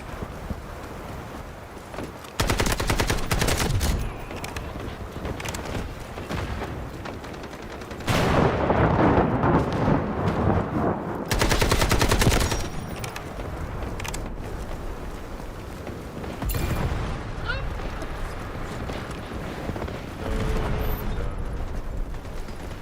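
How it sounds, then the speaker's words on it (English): Artillery barrage in the video game Black Ops 6, with loud bursts of booming explosions and gunfire coming in waves over a constant rumbling battle background. "Artillery barrage incoming."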